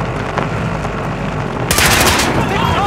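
Gunfire from the Call of Duty Modern Warfare video game rattles continuously under battle noise, and a sharper, louder burst of rapid automatic fire breaks in near the end.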